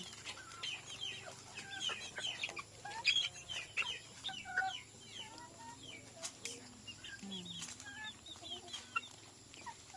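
Backyard chickens cluck and chatter in a busy, overlapping flock, with repeated short calls near and farther off over a low ambient hum.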